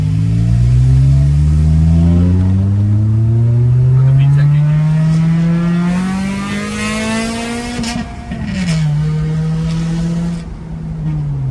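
A car engine roars loudly and close, revving up in pitch over several seconds, easing off briefly, then climbing again.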